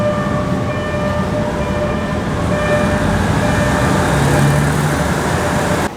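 Rail traffic near a rooftop spot by the tracks at Phaya Thai, Bangkok, rumbling steadily and loudly for the whole stretch with a faint tonal whine above, mixed with surrounding city traffic noise and no talk.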